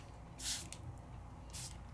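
Two short hissing sprays of water from a spray bottle onto watercolor paper, a second or so apart, close and fairly soft against a quiet background.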